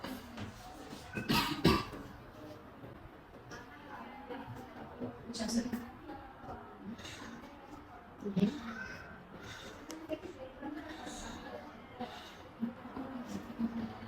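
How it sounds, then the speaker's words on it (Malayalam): A patient with fever and a suspected pneumonia coughs in several short harsh bursts, spaced apart, between stretches of talk and background room noise. "നല്ല ചുമക്കുണ്ടല്ലോ"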